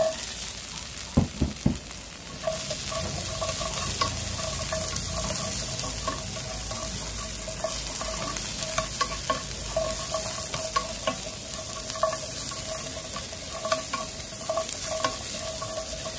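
Pickled scallion bulbs (kiệu) stir-fried in a hot pan with garlic and chili for a vegetarian seitan dish, a steady close sizzle with repeated scraping stirs, a few sharp knocks at the start, no talking.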